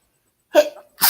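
A single sharp sneeze bursts out, followed a moment later by the start of a second loud sneeze-like burst, close and abrupt.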